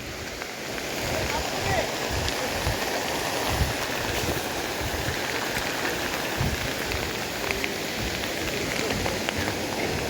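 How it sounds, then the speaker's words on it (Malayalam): Heavy monsoon rain pours steadily through the forest roads of Nelliyampathy, a dense, unbroken hiss of drops that holds at an even level throughout. "നല്ല മഴ."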